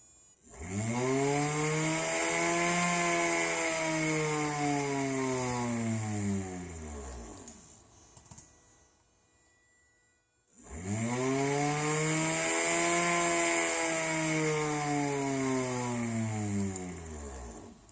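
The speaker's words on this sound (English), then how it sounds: "And this is motor acceleration." A small electric motor in a hobby experiment spins up twice, its whine rising steadily in pitch over several seconds each time, with a quiet pause between the two runs.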